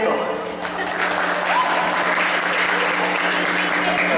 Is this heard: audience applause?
yes